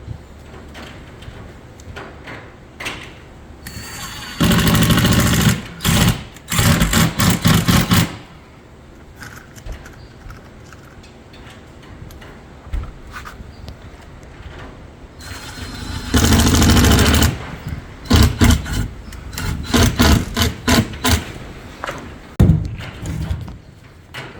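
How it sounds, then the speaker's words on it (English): Loud bursts of a power drill whirring in long runs, with pauses between, stopping and starting repeatedly as screws are driven into boat fiberglass. "I always try to use the size drill bit or the size of the screw in the drill index to go through fiberglass."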